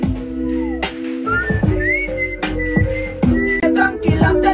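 A person whistles a melodic line over a music track during a studio session, with rising and falling pitched notes above a rhythmic beat.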